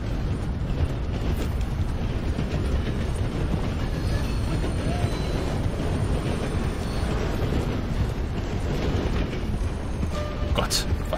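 A train passes by in the video game Red Dead Redemption 2, making a loud, continuous rumbling roar that stays steady throughout.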